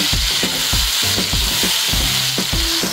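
Ginger garlic paste fries in a pan for egg biryani, a dense sizzle punctuated by rhythmic spatula scrapes roughly every half second, loud and close with no talking.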